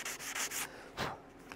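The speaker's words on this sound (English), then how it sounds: "We'll take out the random orbit scratches with our 220." Short, close strokes of 220 grit sandpaper rubbing back and forth by hand, a few quick scratchy passes then a softer final stroke.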